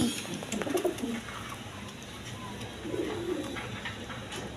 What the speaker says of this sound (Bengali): এখানে এক পেয়ার কবুতর আছে আপনার লাহোরি কবুতর দেখেন